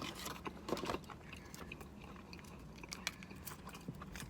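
Someone eating McDonald's Chicken McNuggets dipped in Mac sauce, with close, quiet bites and crunchy chewing repeated throughout.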